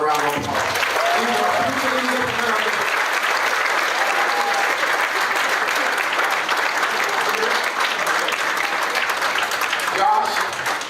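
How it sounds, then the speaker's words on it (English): Sustained audience applause at a high school football banquet, steady dense clapping filling the room from start to finish, with faint voices and whistles mixed in. "If you would, give these young men a little round of applause."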